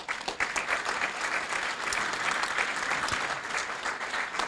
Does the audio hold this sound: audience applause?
yes